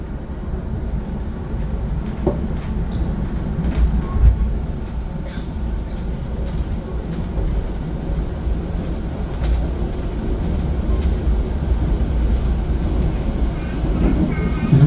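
A train crosses the Citiis bridge with a steady, heavy rumble and faint metallic clatter that continues unbroken throughout.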